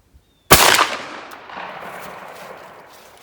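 A Remington 11-48 semi-auto shotgun fires a single buckshot load with BP1680 wads at an outdoor range, aimed 30 to 35 yards downrange. The sharp, loud blast rings out and then fades in a long echoing tail.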